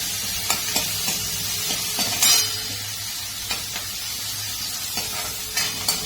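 Onion and curry leaves frying in hot oil in a home kitchen pan, a steady close sizzle with repeated sharp stirring scrapes and clinks throughout.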